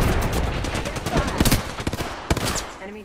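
Rapid automatic gunfire in the Apex Legends battle royale game, several close bursts of sharp cracks in quick succession, with players shouting over the shooting.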